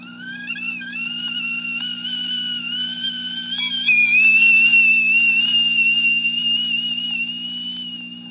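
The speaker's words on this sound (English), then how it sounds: "Tea kettle whistling." A tea kettle whistles steadily with a shrill, sustained tone that wavers slightly and grows louder toward the middle, heard alone over a low constant hum.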